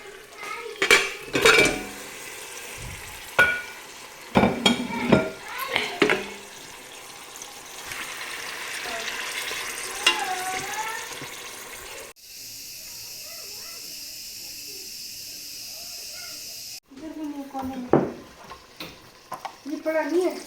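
Meat goes into a pot for biryani and is stirred, with clattering utensils against the pot, scraping and some sizzling, under intermittent talking.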